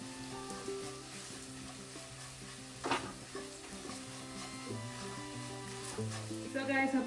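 Onions with turmeric powder sauté in a pan for Kerala-style onion rice, giving a steady close sizzle with occasional stirring scrapes and light clinks.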